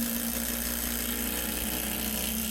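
Ryobi Gen 2 cordless impact driver on a 2 amp hour battery sinking a lag bolt into pine, a continuous loud buzzing hammer whine held steady for the whole stretch, close up.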